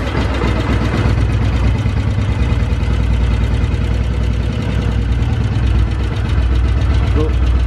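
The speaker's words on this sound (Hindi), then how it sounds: "मैं गाड़ी को स्टार्ट करता हूँ और इसकी साउंड देखेंगे।" Royal Enfield motorcycle engine idling close by with a steady, loud thumping beat, the tappets set for adjustment.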